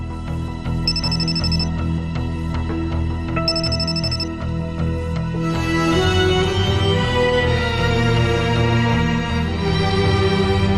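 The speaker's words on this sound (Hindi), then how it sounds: "कॉल आ रही है।" Phone ringing with an incoming call in an Urdu drama scene, two short bright ringtone bursts over a sustained musical score that swells and grows denser in the second half.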